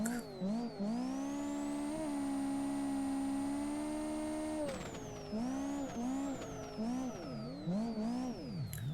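A Nissan Silvia S14 drifts in Live for Speed, its engine holding a loud sustained high-revving drone, then swooping up and down in pitch as the rear slides and the throttle is worked, with no talk.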